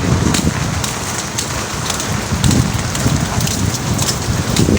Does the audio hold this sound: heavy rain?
yes